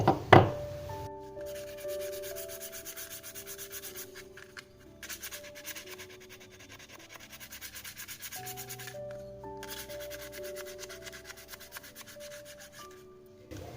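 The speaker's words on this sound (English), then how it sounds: "So I'll give it a good sanding" Steady back-and-forth rubbing of sandpaper on a wooden toy by hand, continuous and close, with soft music playing underneath.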